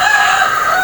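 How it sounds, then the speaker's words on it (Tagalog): A rooster crows loudly and steadily close behind a person walking outdoors, its drawn-out call filling the whole moment with no talk over it. "Sobrang ingay talaga ng manok na sa likod."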